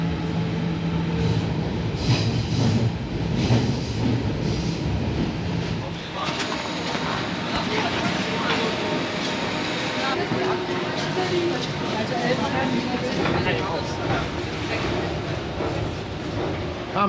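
At a Berlin station platform, a train rumbles and clatters steadily for a long stretch, with a dense rolling roar and faint mechanical squeals, while a voice talks nearby over the noise.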